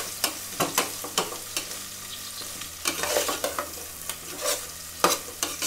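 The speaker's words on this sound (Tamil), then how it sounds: "வெங்காயம் கொஞ்சம் நல்லா வேகணும்," Onions frying in a pan for prawn biryani, stirred often so that sharp, regular spoon taps ring over a soft, continuous sizzle close by.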